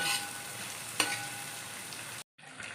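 Onions frying in a pan for beef roast, a soft, continuous sizzle with a brief clink of stirring partway through and a short cut of silence near the end.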